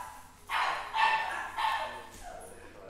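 A dog barks several times in short, separate bursts, moderately close, with faint background noise between the barks.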